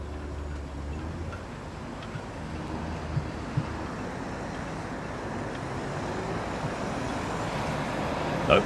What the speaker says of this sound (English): No, that's car noises